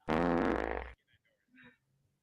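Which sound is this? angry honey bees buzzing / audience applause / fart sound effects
fart sound effects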